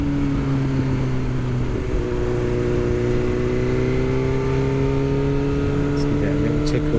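Engine of a 2021 BMW S1000R motorcycle idles and rises in a steady, strong drone with clear rising harmonics, close and loud, while someone talks over it.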